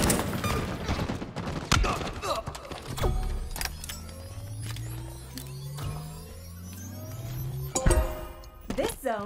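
Rapid gunfire crackles and sharp shots from a Halo Infinite multiplayer match, dense bursts at the start and near the end, mixed with game effects, a low engine drone and a voice speaking.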